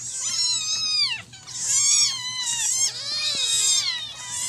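Hungry cats meow loudly and insistently at a pot full of rice porridge, several overlapping drawn-out cries in quick succession, close by and with no talking.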